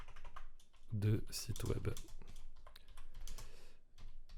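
Typing on a computer keyboard with a microphone placed just in front, a steady run of fast, close clicks and taps that continues under someone speaking French.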